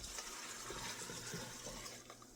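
Soy sauce brine pours over dried radish, a faint close steady liquid splash and gush lasting a couple of seconds without speech.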